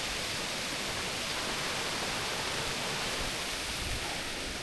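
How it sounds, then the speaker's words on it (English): Waterfall on the icy Sky Pond trail in Rocky Mountain National Park, a steady broadband roar of rushing water with no breaks, constant and enveloping throughout. "So we're at the waterfall."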